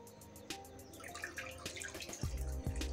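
Water poured into a sugar-and-yeast mixture for donut dough, beginning as light drips and trickles and building to a fuller, closer pour with a low splashing rumble near the end.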